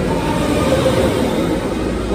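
A Tron Lightcycle Run coaster train passes close by below, a loud, continuous rushing rumble with a steady mechanical roar.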